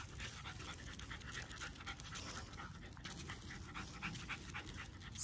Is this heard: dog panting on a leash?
yes